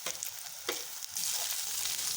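Capsicum, cabbage and carrot stir-fried for veg fried rice, a close sizzle broken by a few scraping stirs, then settling into a louder, steady hiss of frying.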